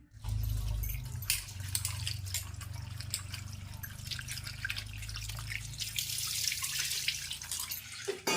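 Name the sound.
pouring water into a cooker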